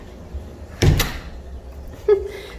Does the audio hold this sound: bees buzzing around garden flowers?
no